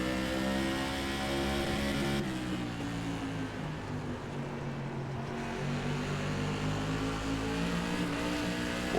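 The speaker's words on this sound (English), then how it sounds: "Car coming up." NASCAR Modified race car engine in iRacing at Thompson oval, a loud sustained roar with shifting harmonic pitch as the car accelerates and another car closes in, steady and near throughout.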